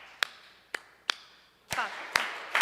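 Sharp, sparse handclaps during a Sunday church service, spaced like a slow rhythm, then a fuller clatter of several hands joining in close by.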